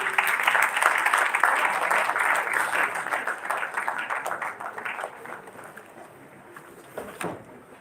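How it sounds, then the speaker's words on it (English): An audience applauds for a keynote speaker at a dental event, with sustained, fairly distant clapping from a crowd that slowly tapers off over several seconds. "huge round of applause, please, from the audience"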